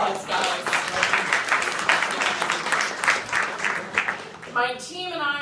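Audience applause at the 2016 GANYC Apple Awards Ceremony in New York, a steady wash of clapping lasting several seconds before tapering off as a voice begins speaking at the end.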